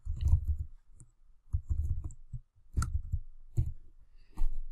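Sharp, quiet mouse clicks come singly and in small clusters at an uneven pace while working in Tableau software, with low thumps and desk handling sounds between them and no talking.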